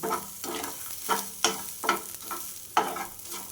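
Onions sautéing in a little leftover oil in a home kitchen pan, stirred in a steady rhythm of scraping, sizzling bursts about every half second, close and moderately loud with no talking.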